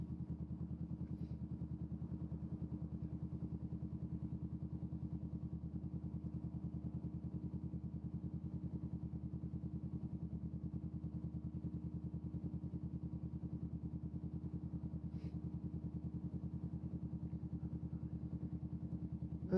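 A motorcycle ridden on an afternoon commute home from work, its engine holding a steady, unbroken low drone for the whole stretch, with faint clatter now and then and no talking.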